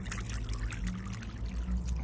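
A drinking fountain in Vanadzor pours a steady stream of water, a continuous close splashing trickle that stays even in level throughout.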